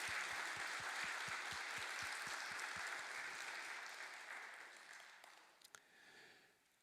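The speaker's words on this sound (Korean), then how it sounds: "우리 박수로 감사의 마음 전합시다." Church congregation during a Sunday service applauding in thanks after worship singing, a full wash of clapping over a faint rhythmic pulse that gradually dies away, followed by a brief knock and quiet room tone.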